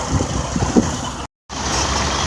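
Tractor-trailer truck engine idling and rumbling nearby during a slow reversing maneuver, a steady low drone broken by a brief gap of silence.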